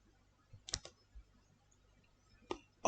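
A few soft, close clicks and taps on a laptop computer keyboard, an uneven short burst of keystrokes with a pause before a last couple of clicks, faint against a quiet room.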